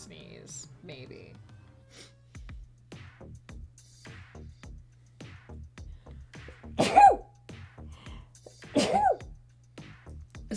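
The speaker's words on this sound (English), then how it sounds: "I'm gonna sneeze, maybe." Two loud sneezes burst close to the microphone about two seconds apart, each sharp and explosive, set against quiet breathing and faint background hum.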